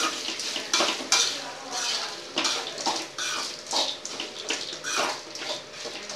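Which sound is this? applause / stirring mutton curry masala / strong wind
stirring mutton curry masala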